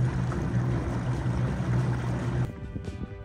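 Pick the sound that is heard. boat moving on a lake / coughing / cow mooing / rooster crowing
boat moving on a lake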